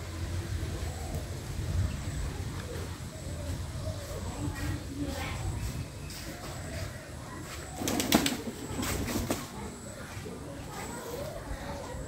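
Frightened pigeons perched in a row under a tin roof flutter and coo in a steady mix of soft calls and brief wing bursts, with a louder flurry near the end, while a person talks over them.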